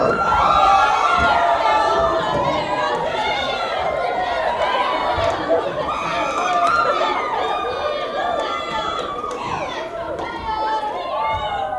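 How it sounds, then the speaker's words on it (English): Hypnotized volunteers at a Carroll University hypnosis show, acting as cheerleaders, shout a huge cheer together: a loud, dense crowd of excited voices yelling and whooping continuously for the whole stretch. "you are the Carroll University cheerleaders doing a huge cheer for Carroll University"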